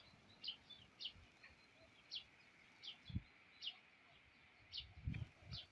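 A small group of sparrows gathered together chirp in short bright bursts, repeated irregularly every second or so, faint and somewhat distant over low outdoor background rumble with occasional soft thumps.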